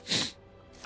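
A single short, breathy human sneeze bursts out at the start and then fades into quiet room tone.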